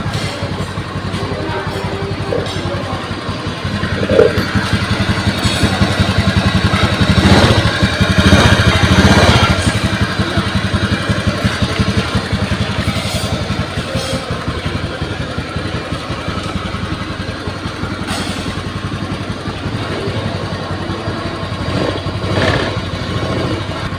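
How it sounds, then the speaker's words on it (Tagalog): A Honda Beat FI scooter engine idles and revs in a steady drone, with a loose, rattling cover buzzing along as the revs rise around the middle, close and loud throughout. "maingay ang cover ng Honda Beat nito mga boss sumasabay sa pagrevolusyon mo"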